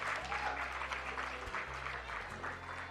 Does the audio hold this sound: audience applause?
yes